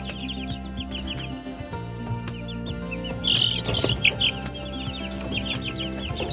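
Chicks and young roosters in a brooder cluck and cheep continuously at close range, with a burst of sharper, louder peeps midway and a low steady hum beneath.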